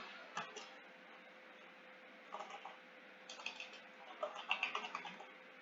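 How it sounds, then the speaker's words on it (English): Typewriter keys clack in short irregular bursts, quiet and close, with scattered single strikes early on and a denser run of taps toward the end over a low steady hum. "Probably the typewriter."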